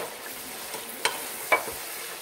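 Masala for beef nihari fries gently in a pan, a soft steady sizzle with a couple of sharp scraping stir strokes, close and without talking.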